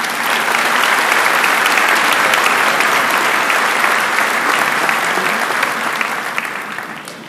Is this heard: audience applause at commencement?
yes